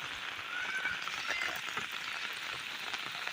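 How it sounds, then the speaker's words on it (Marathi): Heavy monsoon rain pouring down steadily on a waterlogged street, a dense continuous hiss of drops beating on surfaces, fairly faint and even throughout with no talking. "पण तिथे जाम धो पाऊस पडलाय"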